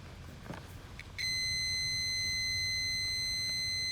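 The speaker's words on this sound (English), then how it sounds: "use my multimeter set to ohm and make sure it beep when I connect the both" A multimeter set to ohms on continuity gives a steady high-pitched beep while its probes touch a fuse from a 2005 Nissan Titan, starting after a second of quiet shuffling and holding to the end.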